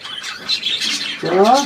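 A gull gives a harsh squawk near the end, close and loud, over a rustling, noisy background, with a person nearby talking softly to the bird in German.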